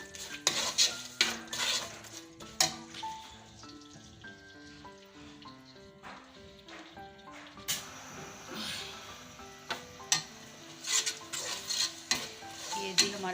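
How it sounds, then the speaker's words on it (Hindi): Whole spices being stirred in a cooking pot for pulao, with repeated metal scraping and clinking of a spoon against the pot over a soft sizzle, steady and close throughout with no talk. "थोड़ा सा हम इसको चलाएंगे ताकि ज़रा मसाले इसके अंदर भून जाए।"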